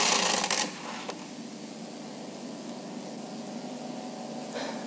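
A Bond Classic knitting machine carriage sweeps across a row in a loud rasping burst at the start, then settles into a steady low mechanical hum and faint rattle for the rest of the stretch, with no talking.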